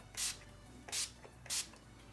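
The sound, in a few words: makeup setting spray being sprayed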